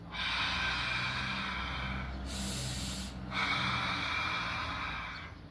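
A deep inhalation during a breathing exercise, a long close airy draw of breath that runs for several seconds, briefly breaks, then resumes steadily with no talking.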